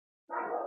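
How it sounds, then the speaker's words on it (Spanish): A female dog gives a single loud bark close by, a short burst after a moment of silence. "Perdonen los ladridos de la perra que siempre se quiere incluir en los"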